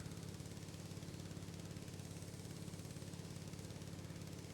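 A mower engine in the Farming Simulator 19 video game runs with a steady, even low drone for the whole stretch, with no voices over it.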